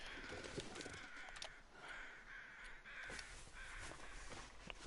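Ptarmigan calls sound in the snowy wilderness of the survival game The Long Dark, as repeated harsh croaking caws spread across a steady windy background, fairly faint and with no talk.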